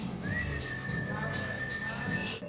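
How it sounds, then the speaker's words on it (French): A person whistles one thin, sustained, steady note, fairly faint, over a background of low voices and room murmur. "tu siffles et tu souffles de l'air"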